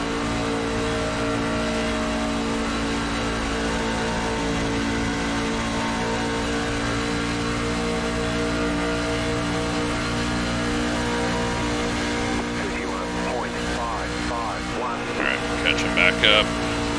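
Race car engines droning steadily in an iRacing NASCAR race at Las Vegas, a sustained loud multi-car roar with shifting pitch as cars run in the draft, under occasional talk.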